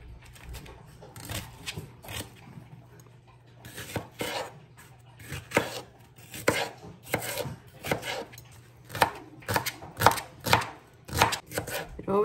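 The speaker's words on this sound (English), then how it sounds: "Okay, I'm going to cut up some celery." A knife chops celery stalks on a cutting board in the home kitchen, the cuts starting sparse and growing into a quick, steady run of sharp, close taps.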